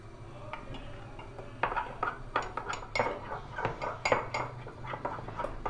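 A spoon scrapes and clinks rhythmically against a mug while mixing mug cake batter, close and fairly quiet, with repeated sharp taps growing busier toward the end.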